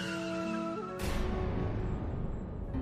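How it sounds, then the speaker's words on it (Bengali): A car arrives with a sudden broadband rush and tyre noise after a second of tonal background, close and fairly loud, then settles into a rougher engine and road sound. "গাড়ির শব্দ"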